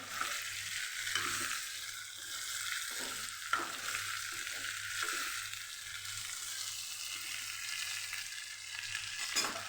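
A Kathiyawadi okra and potato curry cooks in a pan on a gas flame, making a soft, continuous sizzle with light stirring scrapes and a low steady hum.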